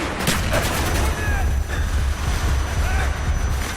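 Dense gunfire from the Call of Duty Black Ops Project Nova game on Xbox 360, a loud continuous barrage of shots with faint game chatter and squad callouts blended in.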